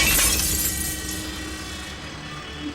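Car window glass smashes in a loud, bright shattering burst at the start, the crash tapering into a scattered crunch and settling debris over a low rumble.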